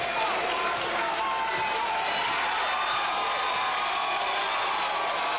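A high school basketball crowd cheers loudly in a gym during the Hastings at North Salem game. The roar is dense and constant, and a commentator can be heard talking under it.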